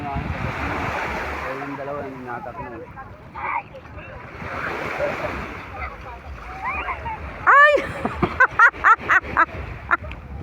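Gusty wind buffets the microphone on a beach in La Union, over crashing surf, with scattered voices and a few sharp bird-like chirps near the end.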